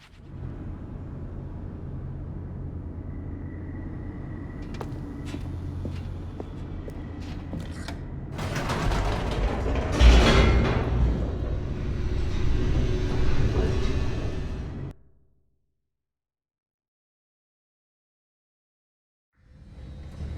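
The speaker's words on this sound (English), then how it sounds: "The elevator raced downward" A descending elevator in The Stanley Parable 2 rumbles and creaks steadily, swelling into a louder rattling roar before cutting to sudden silence, then a low rumble returns at the end.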